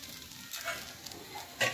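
Chhilka, a rice flatbread, cooks on a clay stove with a faint soft sizzle and a few light scraping touches, ending in a brief louder crackle, and no voices.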